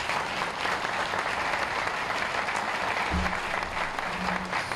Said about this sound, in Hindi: एक बार हमारे मुख्यमंत्री जी के लिए तालियां बजाइए।